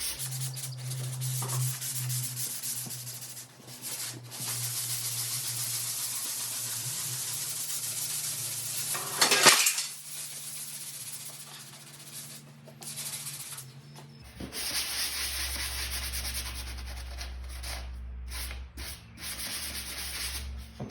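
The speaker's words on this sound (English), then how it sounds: "If you want to get it flat, get a sand block and go with it." Sanding block rubbed back and forth over drywall joint compound around an interior window frame, a steady close scratchy rasp with brief pauses and a louder scrape midway.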